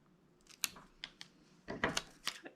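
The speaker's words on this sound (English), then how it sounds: "Trim the edge on this one." Scissors trim the edge of paper for a planner spread: a handful of crisp, close snips in quick, uneven succession in a quiet room.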